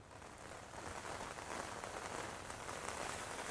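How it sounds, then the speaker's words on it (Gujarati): Heavy rain falls in a steady, dense hiss over a flooded highway in Mahesana, Gujarat, an even downpour with no voices. "લગાતાર વરસાદ વરસી રહ્યો છે"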